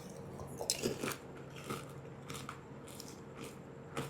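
Someone eats golgappa (pani puri) with potato filling, giving a few faint, close crunches and soft wet chewing at irregular intervals, with no talk.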